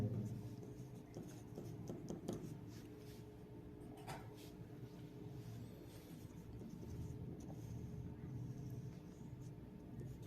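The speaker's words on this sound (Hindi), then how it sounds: "इसका सॉल्यूशन लिखते हैं।" Pen scratching on paper while writing out a maths solution, faint and continuous close-up strokes over a low rumbling background, with no talking.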